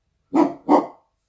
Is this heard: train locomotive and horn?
no